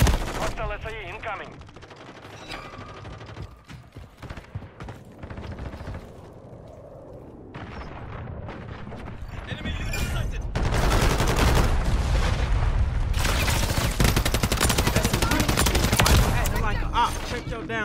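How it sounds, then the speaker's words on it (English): Gunfire in Call of Duty Modern Warfare 3: scattered shots early, then a long, loud, dense burst of automatic fire that runs almost continuously to the end, with voices talking in between. "I'm sitting here shooting this dude"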